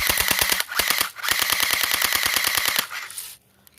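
An airsoft gun firing full-auto bursts, rapid sharp clicking shots in a fast even rhythm, two long strings with a brief pause between, close and loud, then a quiet tail.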